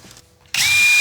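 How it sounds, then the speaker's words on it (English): A power drill bores 1/8-inch pilot holes into a wall stud while a Delta Classic 500 seated wall kit is being installed. After a quiet moment it starts abruptly into a loud, steady, close whine that holds to the end. "now I'm gonna go ahead and drill my 1/8" pilot holes"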